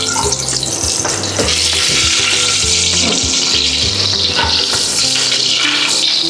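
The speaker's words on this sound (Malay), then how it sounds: "So kita masukkan serai, tumis serai dulu" Lemongrass stir-frying in oil already used for frying beef for a Malay daging lemak tumis, a loud, close, continuous crackling sizzle with clattering stirring through it and no talk.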